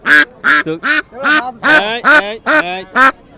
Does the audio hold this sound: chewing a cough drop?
no